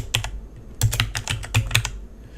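Quick bursts of keystrokes on a computer keyboard as a short network filter is typed, close and crisp with brief pauses between clusters of clicks, no speech.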